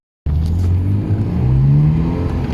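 A Ferrari 348 TS engine starts up suddenly after a moment of silence and settles into a loud, close rumble, with the revs rising in a smooth climb near the end.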